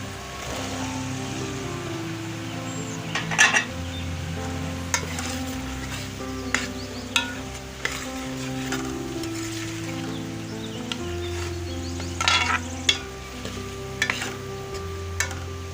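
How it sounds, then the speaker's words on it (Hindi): Black chickpeas sizzle steadily in masala as a spoon stirs through the pan, with soft scraping clicks and small bursts of frying over a continuous low hiss. "मसाला हमारा अच्छी तरह मिक्स हो गया है। अब इसमें ब्लैक चने डाल रही हूँ।"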